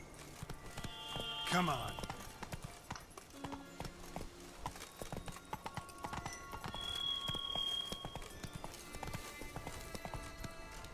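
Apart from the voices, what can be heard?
horse Roach galloping in video game The Witcher 3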